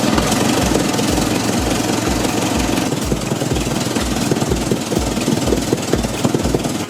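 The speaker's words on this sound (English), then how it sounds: "The engine roars loudly, with thick exhaust smoke rising as the massive engine comes to life." A massive 1910 Fiat S76 with its 28.5-liter engine runs loud and close at a festival of speed, a deep, slow, regular thumping of big firing pulses under a dense rumbling roar that stays steady throughout.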